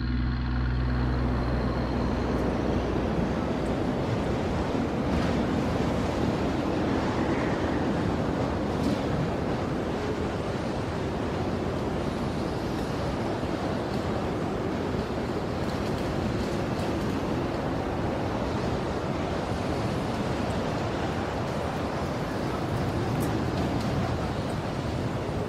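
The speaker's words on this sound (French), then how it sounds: "la marée est devenue soudain très haute. Le vent devient violent" Strong wind and high-tide ocean waves on the Mauritanian coast make a continuous heavy roar of surf, with gusts buffeting the microphone, and no voices.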